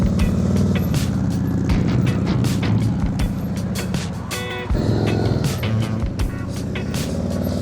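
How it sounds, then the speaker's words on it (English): A motorcycle engine runs nearby while a rider warms up and turns the handlebars, the throttle dipping and rising in a steady mechanical drone, with sharp clicks and knocks scattered throughout. "Just dropping his throttle when he turns the handlebars."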